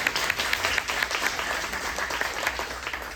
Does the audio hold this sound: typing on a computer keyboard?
no